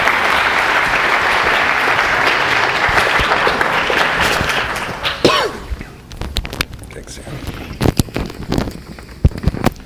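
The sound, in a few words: applause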